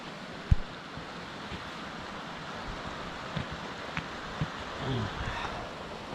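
Steady broadband rush of a high, fast-flowing spring river fills the clip, with a few faint knocks and brief bumps scattered over the continuous wash.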